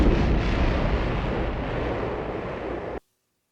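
Movie depth charge explosion effect rocking a U-boat, a loud sustained deep roaring rumble that fills the space and then cuts off abruptly to silence.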